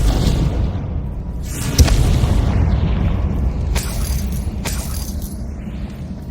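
Confringo spell explosions in the video game Hogwarts Legacy, a deep rumbling boom with a sustained roar and several sharp cracking bursts spaced a couple of seconds apart, loud and close.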